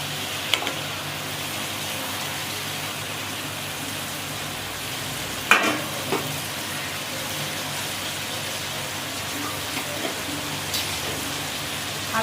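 Small mourola fish are added to a sour curry with raw mango simmering over medium heat, producing a soft, steady bubbling hiss with one brief clatter partway through.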